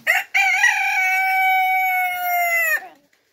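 A single long rooster crow rings out loud and close, a young cockerel from a backyard flock of laying hens sustaining one harmonic-rich call for over two seconds after a short opening squawk.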